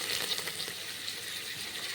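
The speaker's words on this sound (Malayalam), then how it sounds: "2 സ്പൂണ് വെളിച്ചെണ്ണ ഒഴിച്ച് കുറച്ച് വെള്ളം ഉണ്ടായിരുന്നു പാത്രത്തിൽ, അതങ്ങനെ പൊട്ടുന്നു" Two spoons of coconut oil heating in a pan that still held a little water: a continuous close hiss with faint rapid crackles and pops throughout, no voices.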